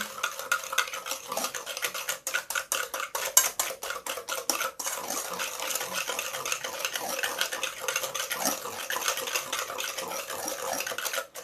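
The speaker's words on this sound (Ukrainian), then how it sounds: "І зараз розмішаю це, розвітрю трішки" Sugar and vanilla being stirred in a bowl with a spoon, a steady run of quick scraping clinks against the bowl, close and fairly busy, with no talking.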